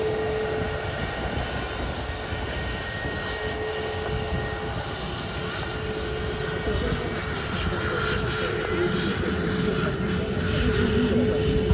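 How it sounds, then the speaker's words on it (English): An EasyJet Airbus A320neo airliner taxis at Manchester airport, its steady jet engine whine and rumble growing slightly louder as it rolls past, with no one talking. "Next up is an EasyJet Airbus A320 Neo in Neo livery, which is quite cool"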